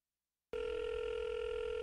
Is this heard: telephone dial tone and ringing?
yes